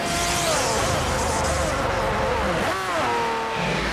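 Racing cars roar in the video game Forza Motorsport 4, a continuous loud engine drone with rising and falling revs and a brief squealing slide near the end.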